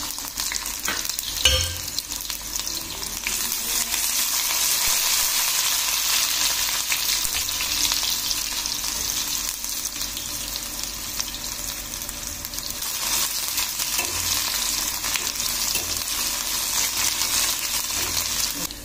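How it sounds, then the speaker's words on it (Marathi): Mustard seeds and onion fry in hot oil in a pan, giving a loud, steady, bright sizzle that runs throughout, with occasional stirring scrapes and small pops close up. "आपलं तेल तापलेलं आहे। आपण टाकलेली आहे मोहरी। मोहरी छान तळतळलेली आहे।"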